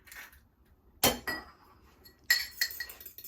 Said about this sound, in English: you're going to crack an egg and beat it